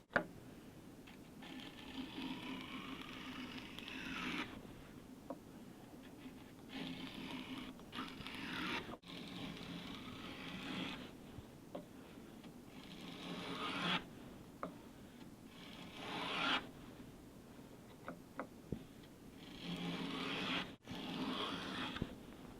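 A hand plane cuts a rabbet in wood with a series of soft rasping strokes, each a few seconds long and separated by brief pauses. The sound is quiet and close, with no talk.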